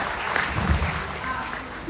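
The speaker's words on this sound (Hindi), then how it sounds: "जबरदस्त तालियां और एक जोरदार ताली दीजिए" Audience applause at a Sunday team meeting panel discussion, a brief steady patter of clapping from a seated crowd with a voice speaking over it.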